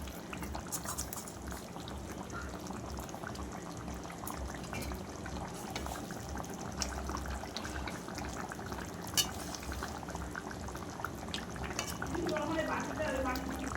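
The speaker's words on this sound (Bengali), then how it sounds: "এই দেখো মাছের ঝোলটা ফুটে গেছে" A pan of katla fish curry simmers at a steady, soft, bubbling boil, continuous and fairly quiet, with a voice talking over it in places.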